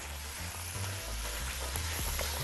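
Spices sizzle and fry steadily with green fava beans and coriander in a hot pan, a continuous close crackle with faint stirring, no talking.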